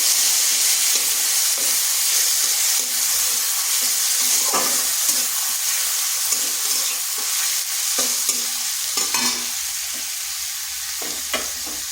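Onion paste hitting hot oil in a pan: a loud, steady, close sizzle with repeated scraping and stirring clatter, slowly settling slightly quieter, with no voices.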